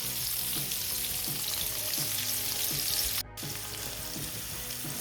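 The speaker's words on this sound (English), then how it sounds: "Now I'm just going to add the onion into the pan and then let this caramelise." Sliced onion fries in a pan, giving a constant close bright sizzle with faint scraping stirs. It breaks off briefly for an instant before the hiss resumes slightly quieter.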